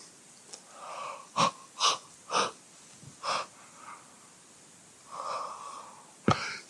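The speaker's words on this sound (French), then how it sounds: "Je continue, je bâille." Slow, breathy yawns in a quiet room during a bedtime relaxation session, several drawn-out exhalations with short gasps and one long open-mouthed yawn, close and soft, followed by a sharp snort-like breath at the end.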